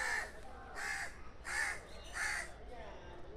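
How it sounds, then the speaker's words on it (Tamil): A crow caws four times in a slow, evenly spaced series of harsh, raspy calls, fairly close against a quiet background. "காக்கா கத்துது"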